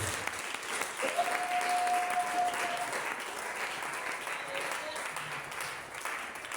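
A church congregation applauding steadily to acclaim the Lord, dense continuous clapping filling the room with faint voices and a brief whistle-like tone under it.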